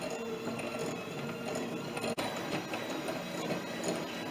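Butter and brown sugar being creamed for sticky toffee pudding, most likely with an electric mixer, giving a continuous, even whirring drone with faint rattling, close by and uninterrupted apart from one brief dip.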